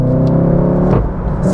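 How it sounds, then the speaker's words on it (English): A turbocharged Seat Leon Cupra engine revs hard in a quick throttle blip, a loud close growl that drops away abruptly, with no talk. "That's the throttle response from a turbo car."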